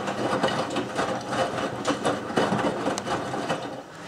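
The drum of a Miele W562 washing machine turning slowly on a Minimum Iron cycle, rhythmic tumbling thuds and swishing laundry repeating at a steady pace, close and continuous.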